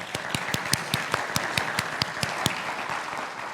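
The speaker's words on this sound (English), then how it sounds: "I want to give them a round of applause" Audience applause rings out at a food and dining conference, a steady wash of many hands with sharp individual claps standing out, moderately loud and continuous throughout.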